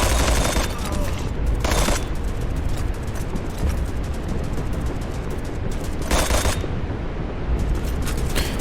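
Sustained submachine gun fire in the Strike Force 3 shooter, dense continuous rattling at steady loudness with sharper bursts standing out, filling the whole stretch without pause.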